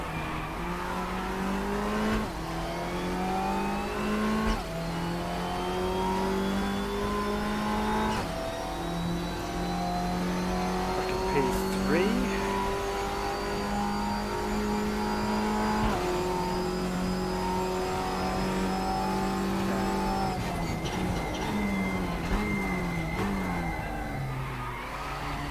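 A race car engine in RaceRoom Racing Experience revs and drones continuously, pitch climbing and dropping through gear changes and braking for a hairpin, loud and steady with occasional tire squeal.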